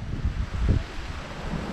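Strong wind gusting across a mountain viewpoint at Doi Ka Ha in Shan State, a steady low roar with buffeting against the microphone, swelling briefly mid-clip, no voices.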